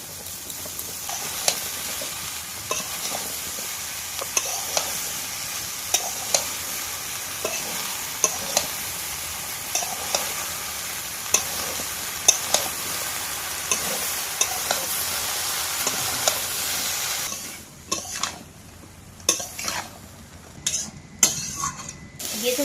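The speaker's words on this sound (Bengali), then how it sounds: "আলু কুচি সব কিছু ভালোভাবে ভাজা হয়ে গেছে" Chopped potatoes fry in a pan over a cooking fire in the Sundarbans, with a steady close sizzle broken by regular scraping stir strokes. The sizzle thins near the end while the stirring clatter continues.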